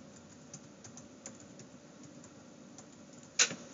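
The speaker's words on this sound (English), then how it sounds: "So I'm going to type in mine." Someone types an email address on a computer keyboard, soft quiet key clicks ticking along steadily at close range, ending with one sharper, louder keystroke near the end, with no talk.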